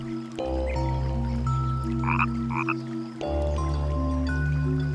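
A frog croaks loudly and close in the wild, in long buzzing calls with a break in the middle, while a faint watery drip sounds in the background.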